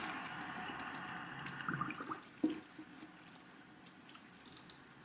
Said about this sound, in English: So now I just take them to the sink and I wash them.